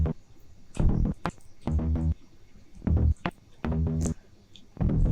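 A synthesized bass layer from a sound design track plays in separated throbbing bursts with a few sharp hits between them, loud and close, with no talking.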